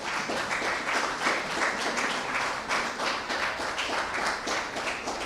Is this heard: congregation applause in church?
yes